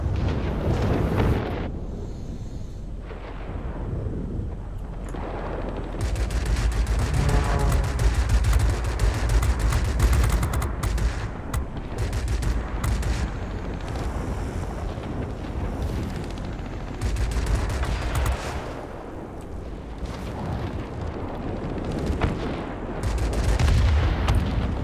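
Aircraft guns firing during a dogfight in World of Warplanes, heavy rattling bursts over a roaring engine drone, loud and sustained with short pauses between volleys.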